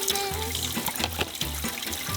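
Water runs from a hotel tap, a steady close trickle and splash into a sink with no voices over it.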